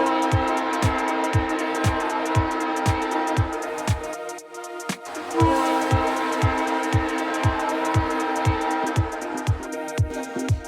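Toy train noise with a steady, regular clickety-clack running the whole way through and continuous whistle-like tonal hum above it, loud and mechanical with a brief dip midway and no talking.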